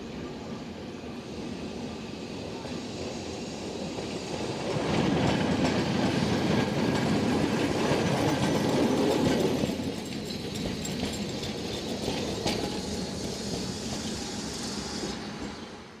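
A restored historic streetcar, Car 21, rolls along its rails with a steady low rumble and clatter, swelling louder midway as wheels grind and rattle, then easing back to a continuous ride noise.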